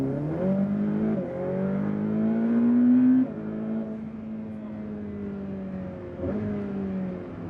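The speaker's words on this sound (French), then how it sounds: "Allez, tout droit, on accélère. Allez, gaz à fond." A car engine accelerating at full throttle during a driving course, loud close revving that climbs in pitch through repeated gear changes, with brief dips between each pull.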